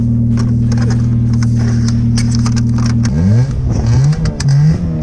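A car engine with a sports exhaust idles with a deep, steady exhaust drone, then revs up sharply in several quick bursts, loud and close.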